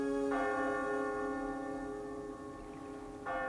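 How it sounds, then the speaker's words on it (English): A cartoon town clock bell tolls in a harbour town, two rich ringing strikes with long sustained overtones, the first humming on until the second chime begins near the end. "the town clock began to toll"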